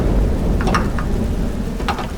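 A storm at sea with steady heavy rain, low rolling thunder and a few brief crackles, dense and continuous throughout.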